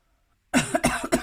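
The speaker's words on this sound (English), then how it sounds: "Sorry for my coughing." A woman gives a short burst of three or four close, sharp coughs right after a moment of silence, loud and dry with no talking.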